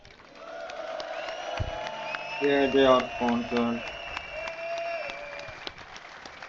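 Crowd of roughly 500 spectators applauding and cheering at the Red Bull Wololo Age of Empires tournament finals, a short burst of clapping and whoops that swells and fades beneath someone talking.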